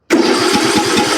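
A John Deere LA105 riding mower engine cranks over with a steady, rhythmic chugging, loud and close, and catches into a running rumble with no pauses.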